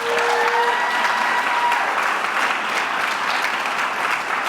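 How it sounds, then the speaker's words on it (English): Loud, dense applause from the audience at a university graduation ceremony, a continuous roar of clapping hands from a large crowd that stays steady throughout. "Let's give them a round of applause."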